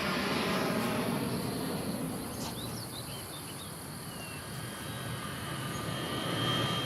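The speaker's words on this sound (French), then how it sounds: "il y a toujours un avion pour passer par là au mauvais moment" An airplane passes near an airport, a broad roaring rumble that swells and recedes while faint bird calls chirp through the middle; no one speaks.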